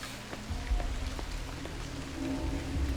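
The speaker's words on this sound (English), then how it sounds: "Rain, rain, nothing but rain." Steady rain in the Hitman 3 video game, a continuous even hiss of falling rain at moderate level with faint drips and low rumble beneath, no voices.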